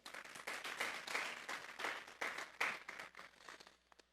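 A church congregation claps during a Sunday service, a few seconds of moderately loud applause with distinct overlapping claps that thin out and fade near the end.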